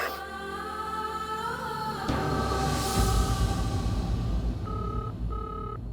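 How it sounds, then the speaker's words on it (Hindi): A phone call is dialed and rings through, with a sustained electronic tone and background sound leading to two short, evenly spaced ring tones near the end, no speech heard. "माया को फोन करती हूँ"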